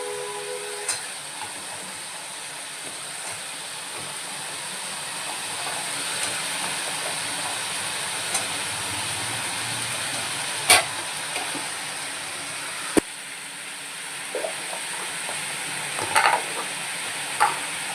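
Potatoes and pointed gourd fry in a pan with a continuous, even hiss of oil, with occasional light clicks and taps of a spatula against the pan.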